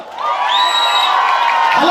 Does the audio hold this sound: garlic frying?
no